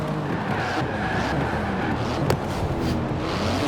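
A 700-horsepower 3.8-litre twin-turbo flat-six in a carbon-fibre sports car from Forza Horizon 4 drones steadily at speed, with one sharp transient partway through and no talk.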